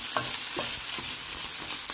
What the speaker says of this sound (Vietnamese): Bây giờ mình sẽ trộn đều cho trứng với cơm nó hòa quyện cho cái hột cơm mình nó vàng.